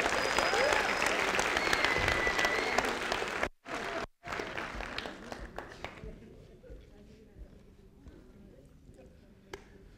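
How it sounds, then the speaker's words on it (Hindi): Audience clapping in a network marketing seminar hall, loud and sustained for about six seconds with two brief dropouts, then fading to scattered claps and quiet room noise. "जोरदार तालियां हो जाए"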